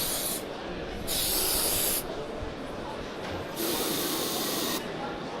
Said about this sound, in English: So I'm just going to put a chill spray onto this just to show the effect.